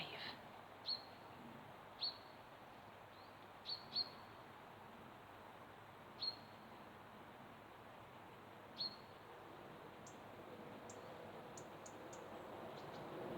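Small birds around garden feeders beside a walking trail near Glossop, Derbyshire give sparse, sharp single chirps spread out over a steady outdoor hiss, with a quicker burst of calls near the end.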